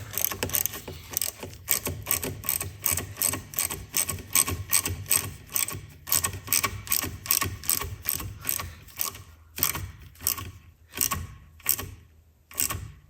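A ratcheting tool clicks in rapid repeated bursts while tightening a hose clamp on a McLaren coolant hose, close and crisp, with the strokes slowing into separate spaced ratchet sweeps toward the end.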